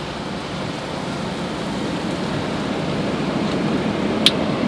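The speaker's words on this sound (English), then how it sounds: "it started pouring down rain and we got tornado warnings" Heavy rain pours down in a steady, dense hiss that stays constant and loud, with a brief faint click near the end and no voices.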